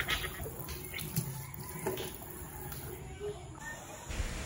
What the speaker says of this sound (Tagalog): Nagilamos na nga po ako gamit yung pangmalakasan naming gripo.